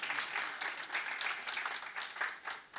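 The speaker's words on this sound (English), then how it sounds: "You can clap if you want. Clap for Burak." A San Francisco startup-event audience applauds the host Burak, a steady wash of clapping that carries through the whole stretch with no talking over it.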